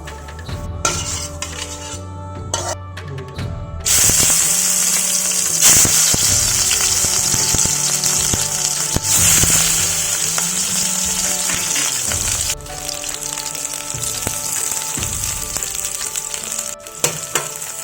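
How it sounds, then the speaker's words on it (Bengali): Nigella seeds (kalonji) crackle and sizzle in hot oil, a loud, steady hiss at close range with occasional clinks of a utensil against the pan. "তেলটা গরম হলে আমি দিয়ে দিচ্ছি কালো জিরে"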